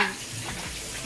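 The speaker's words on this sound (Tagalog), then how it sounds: "Igisa ko si sibuyas at bawang." Onion and garlic sautéing in a pan for a home lunch, a steady close sizzle with a few soft stirring scrapes, alone without talk.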